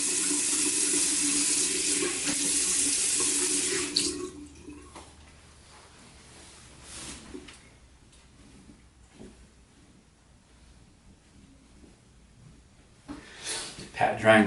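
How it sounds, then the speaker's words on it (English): Cold tap water runs steadily into a bathroom sink for about four seconds while a face is rinsed, then stops, leaving faint drips, splashes and quiet handling sounds. "Right now I'm just rinsing out my face with cold water."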